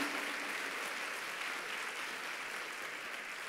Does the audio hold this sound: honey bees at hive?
no